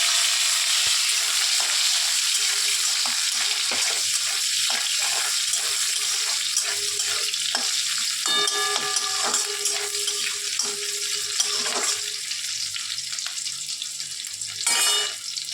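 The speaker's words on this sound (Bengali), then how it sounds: "পেঁয়াজটা লাল লাল করে তোমার ভাজা হয়ে যাবে।" Chopped onions fry in hot oil in a pan, a loud continuous sizzle with intermittent stirring scrapes and clinks throughout, close and without talking.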